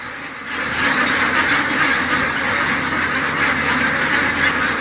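A dense chorus of tens of thousands of ducks on a large duck farm quacks continuously, a loud, layered mass of overlapping calls with no pauses.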